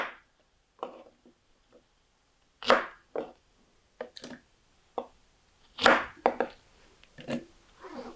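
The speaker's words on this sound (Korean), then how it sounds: "양파는 이렇게 썰어서" A knife chops onion on a cutting board for Korean green onion kimchi, giving a series of separate, crisp thuds with short pauses between them, close and clear with no talking.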